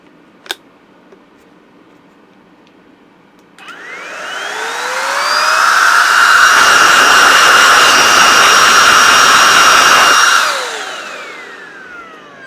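Mellif 20V cordless air duster blowing through a nozzle: a sharp click, then a rising whine that spins up to a loud steady high-pitched rush, holds for several seconds, and winds down again, close to the listener.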